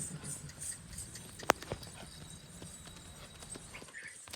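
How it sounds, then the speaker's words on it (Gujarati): A mare's hooves clip-clop faintly on the ground as a rider brings her in at a rural farm, steady soft footfalls with a single sharp knock partway through. "ઘોડી લઈને આવે છે"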